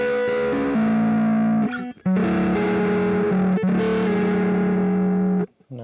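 An electric guitar runs through a Spark 2 amp with ambient effects applied, sustained chords and notes ringing with a washy, distorted shimmer, loud and alone, with brief gaps between phrases.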